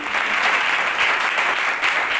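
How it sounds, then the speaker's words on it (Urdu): At an evangelistic gathering, an audience breaks into loud applause for Jesus Christ, a thick, continuous patter of many hands clapping at a steady level throughout. "زوردار تالیاں یسوع مسیح کے لیے"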